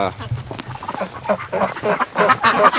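Ducks quack near the entrance to a farm barn, with short repeated calls from several birds while someone talks over them.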